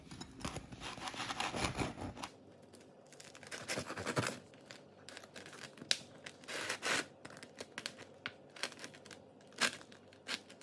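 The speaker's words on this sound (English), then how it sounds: "Now I'm gonna take it out of the parchment paper and then cut it." Parchment paper being peeled and crinkled off a freshly baked, crispy no-knead bread loaf, with bursts of dry rustling and tearing, loudest at the start and then in short scattered crackles, close up with no talk.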